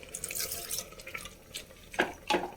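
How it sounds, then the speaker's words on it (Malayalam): Water splashes and drips in short bursts into a cooking pot of lentils and greens, with a couple of sharper pours near the end, close by. "കുറച്ചും കൂടി വെള്ളം ഒഴിച്ചു കൊടുക്കാം."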